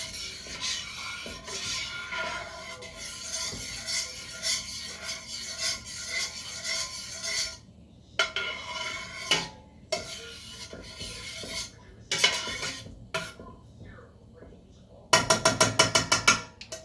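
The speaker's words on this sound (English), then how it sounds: "So we want to stir this baby up" Braised beef with fresh oregano stirred in a pot, a steady rasping scrape of spoon against the pot running throughout, with a few pauses and sharper clattering near the end.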